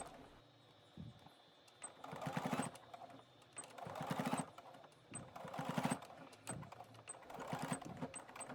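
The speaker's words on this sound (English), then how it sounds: "continue stitching in the ditch all the way across that yoke" A sewing machine stitches in the ditch across the yoke of a pinafore dress in several steady running bursts separated by brief pauses, close up and alone.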